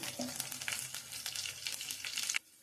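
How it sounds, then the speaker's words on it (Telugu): Spices frying in a pan for tamarind pulihora: a steady close sizzle and crackle with occasional stirring scrapes, continuous for a couple of seconds, then cutting off abruptly. "మొత్తం అన్నీ కలిపి వేపితేనే చక్కగా అన్ని సమాన పాలలో వేగుతాయి."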